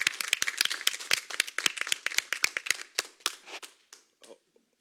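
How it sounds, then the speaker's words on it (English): A small group claps at a city council meeting, the sharp individual claps close and distinct at first, then thinning to a few scattered claps that fade out. "Round of applause for the majority of our finance department."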